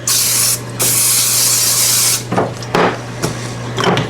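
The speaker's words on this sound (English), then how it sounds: "take your cooking spray and spray that paper again" An aerosol can of cooking spray hisses in two long, loud bursts onto baking paper, followed by a few light taps and rustles.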